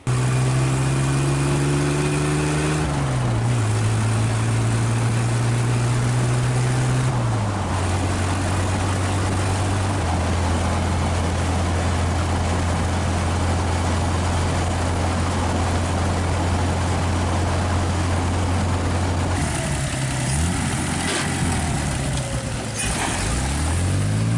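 A 1931 Ford rat rod's engine runs steadily as the car drives, a loud continuous low drone that shifts pitch with gear and speed changes, with wind and road noise throughout.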